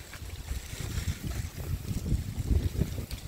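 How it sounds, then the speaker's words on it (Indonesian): Wind gusting across Mount Daik near the summit at night, a low, rough buffeting rumble that swells and eases without a break, loud and close, with no voices. "Ini suara angin nih."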